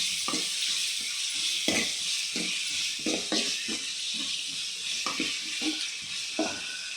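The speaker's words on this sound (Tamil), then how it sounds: "வெங்காயம் சேர்த்து நல்லா கலக்கி வச்சுக்கலாம்." Onions are stirred and fried in a pan for appalam kuzhambu, a constant soft sizzle punctuated by repeated scraping and knocking strokes of a ladle at an uneven pace.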